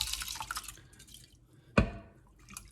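Purple rice tips into water in a saucepan, a few soft wet trickles and drips followed by one sharp splashing plop, close and fairly quiet.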